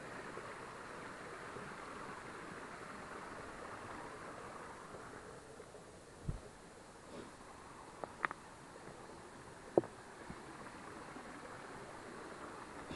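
Continuous rushing water from a waterfall and flowing stream in a nature park, a steady broadband wash with a few brief knocks and clicks over it.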